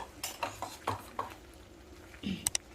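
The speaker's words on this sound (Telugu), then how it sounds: "ఇదంతా బాగా తిప్పాలండి" Beaten yogurt is stirred into a paneer curry in a pan, with a quiet series of scraping and clinking spoon strokes against the metal and a few sharper taps near the end.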